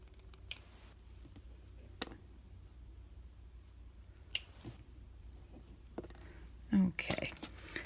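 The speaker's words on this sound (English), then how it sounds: "I'm just going to cut my jump ring" Nippers cut a small metal jump ring in a paper craft session, making a few sharp isolated snips in a quiet room, then brief rustling near the end.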